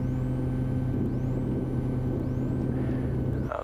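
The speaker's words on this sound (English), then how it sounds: "I'm going to do an extra long run-up, and especially going to power up right now and make sure my brakes are working" Small plane's piston engine held at high power during a long pre-flight run-up with new spark plugs, a loud, steady, droning roar with strong low harmonics that continues unbroken, a brief clunk near the end, no voices.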